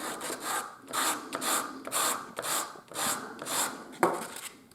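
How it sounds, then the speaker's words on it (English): A wooden wheel for a model steam engine is hand-sanded in steady back-and-forth strokes, about eight rhythmic rasping passes, close up and alone. "you spend a little bit of time sanding."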